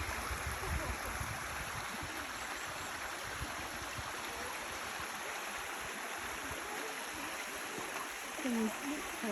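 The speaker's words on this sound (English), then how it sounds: "That's the waterfall." The waterfall at St Nectan's Glen in Cornwall pours with a steady, broadband rushing wash at moderate distance, continuous throughout.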